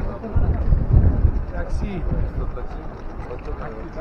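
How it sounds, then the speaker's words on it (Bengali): Strong wind blowing outside Tashkent railway station on a cold day, a steady broadband rush with louder gusts near the start, buffeting the microphone continuously. "এখানে তুমুল হাওয়া বইছে।"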